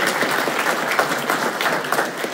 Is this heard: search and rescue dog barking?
no